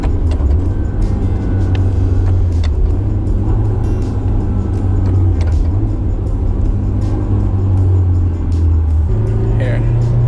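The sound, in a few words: car engine revving while rev matching manual transmission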